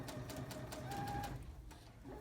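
A sewing machine runs steadily while stitching a lapped zipper, a continuous close mechanical whir with a brief higher whine partway through and no talking.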